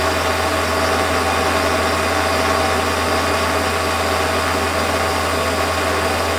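A metal lathe turns aluminium stock for a fire piston with carbide inserts, a steady loud motor drone and broadband cutting hiss continuing unchanged, no voices.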